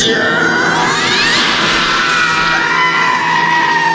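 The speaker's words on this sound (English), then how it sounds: "Why is everyone screaming?" A loud crowd of people screaming and yelling together in a continuous, dense roar that swells and wavers throughout, with no clear individual voices standing out.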